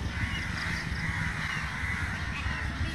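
A crow caws repeatedly at a riverside picnic spot crowded with egrets and other birds, its harsh calls sounding fairly close over a steady outdoor background hum.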